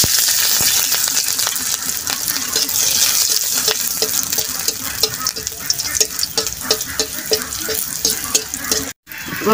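Garlic and dried chilies sizzle and crackle steadily in a hot pan, close and loud, with scraping stir strokes throughout and a brief dropout near the end.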